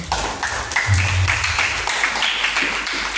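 Group of children clapping together at a school activity, a steady dense patter lasting the whole stretch, fairly loud and close, with some voices and a low hum mixed underneath.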